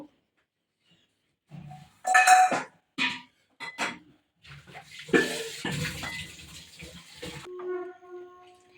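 Water is measured out and poured into a bowl of quinoa for a vegetable quinoa biryani, heard as a few close bursts of splashing and clinking between short pauses.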